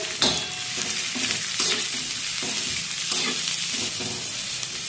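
Thinly sliced, fairly large onion pieces fry for a spicy chicken rassa, with a steady sizzle close by. A spatula stirs them in repeated rhythmic scrapes, and no one speaks.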